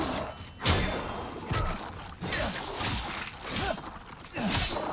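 Sword blows striking skeletons in the Demon's Souls remake, a series of five or six sharp impacts with swishes and crunching rattles spaced roughly a second apart, fairly close and loud, no talk.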